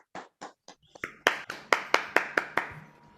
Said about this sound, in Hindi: जोरदार तालियां दोस्तों